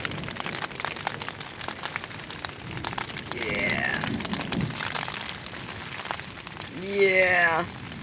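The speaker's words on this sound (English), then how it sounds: "we've got the first bit of rain that we've had in ages" Steady rain falls and patters on surfaces in a back garden during a summer thunderstorm, with a continuous close hiss and scattered drips throughout.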